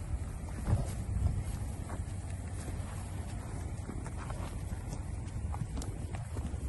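A large, gentle draft horse gelding about 18 hands tall walks outdoors, its hooves clip-clopping faintly in a loose rhythm under steady wind noise.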